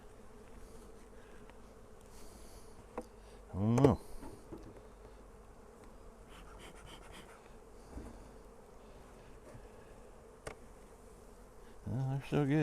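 Honey bees buzz around a hive during hive work as bee boxes are reversed, with a few loud passes close by against a faint outdoor background, and brief speech partway through.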